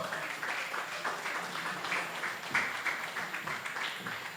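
An audience at a music business and entertainment panel session applauds to welcome the moderator, a steady spread of clapping at moderate level across the whole stretch without talk.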